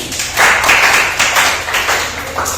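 Classroom applause for a student group, a short, close and fairly loud patter of hand claps coming in uneven bursts.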